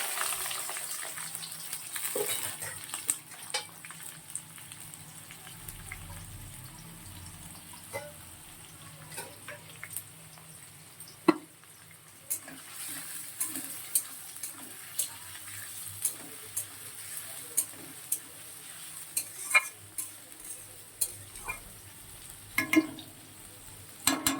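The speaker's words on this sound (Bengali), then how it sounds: "পেঁয়াজ কুচি আর টমেটো কুচিটা দিয়ে দিলাম।" Chopped onion and tomato hit hot oil tempered with cinnamon and cloves, giving a steady soft sizzle broken by frequent sharp clicks and scrapes of stirring, moderately quiet and with no talking.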